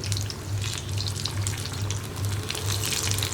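Egg bonda (batter-coated eggs, called muttai bajji) frying in hot oil, a steady close crackling sizzle with bright popping spatters throughout and a faint pulsing hum underneath.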